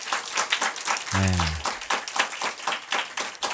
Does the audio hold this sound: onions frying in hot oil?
no